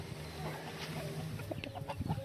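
Yellow-legged hatch gamecock rooster giving a few soft, irregular clucks close by, over a steady low background hum.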